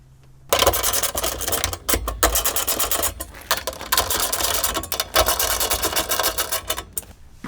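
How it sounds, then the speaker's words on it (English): Four bolts on a bedside MOLLE rack on a 2019+ RAM 1500/2500 truck bed are tightened with a close, rapid ratcheting rasp that runs in quick bursts with brief pauses. "We can go ahead and tighten these 4 bolts down"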